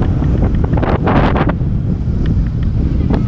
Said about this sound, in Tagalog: Wait, Dok, sa lakas ng hangin!